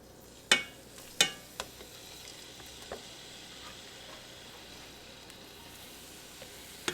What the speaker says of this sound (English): I'm going to go ahead and put the salmon into the pan skin first.